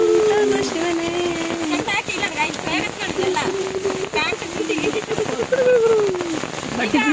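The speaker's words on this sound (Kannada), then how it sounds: "ತುಂಬಾ ಮಳೆ ಬರ್ತಾ ಇದೆ." Heavy rain falling on a forest hiking trail to Chembra Peak in Wayanad, Kerala, a constant patter under people talking in the foreground, their voices running over the downpour.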